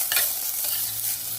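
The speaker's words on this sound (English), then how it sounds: "to this cooker, I'm going to add cleaned and drained rice. Now stir it properly." Drained rice being stirred in a pressure cooker while making soya biryani gives a short, steady scraping rustle over a continuous background hiss, with no voices.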